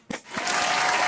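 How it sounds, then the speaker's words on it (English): Crowd applause at an EVO 2023 fighting-game panel for Nickelodeon All-Star Brawl 2, starting with a couple of separate claps and then swelling quickly into a dense, loud, sustained roar of clapping. "Clap it up, y'all."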